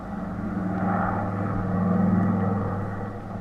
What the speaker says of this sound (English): So he chartered a plane, and we took off for Miami.